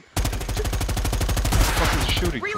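Rapid automatic gunfire from the video game Predator: Hunting Grounds, a loud continuous burst of evenly spaced shots running about two seconds before it cuts off, with a brief voice exclamation near the end.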